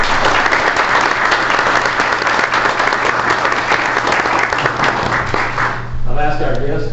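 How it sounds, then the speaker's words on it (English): A room at a Greer city council meeting breaks into steady, sustained applause for a proclamation honoring the Battle of Sullivan's Island, the clapping loud and dense throughout before tapering off as a voice starts talking at the end. "join me in a round of applause"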